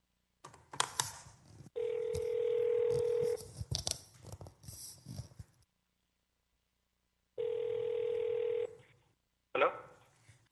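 A telephone call being placed for public comment at a city council meeting: two sustained steady call tones with clicks around them, loud and close, alternating with stretches of fainter background noise and a short burst near the end.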